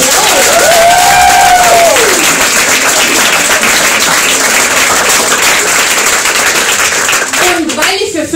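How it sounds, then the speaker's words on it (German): Loud, sustained applause from a live audience at a diary slam show as a male performer is welcomed, dense clapping close and steady throughout, with a voice and a brief whoop over it early on. "Der Jimmy! Applaus!"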